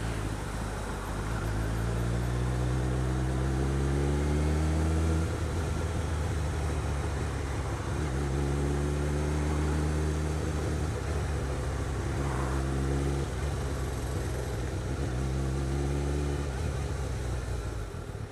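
A motorcycle ridden along a road, its engine droning steadily close by with rising and falling harmonic tones as it changes speed, under constant wind rush.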